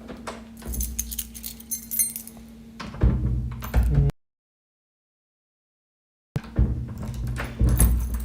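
Keys jingle and clink in short bursts, close and fairly loud, with a stretch of silence in the middle before the metallic rattling resumes.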